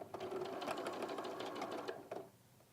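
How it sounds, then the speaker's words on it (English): A sewing machine runs slowly at reduced speed, giving a soft, even run of mechanical clicks that stops abruptly near the end, close up and at a modest level. "my sewing machine has a speed on it"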